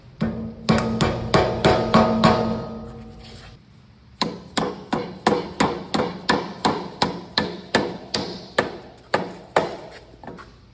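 Metal hammer blows driving bushings into the attachment pivot points of a PH M-Series drill, a quick burst of ringing strikes, a pause, then a long steady run of evenly spaced clanks, close and loud.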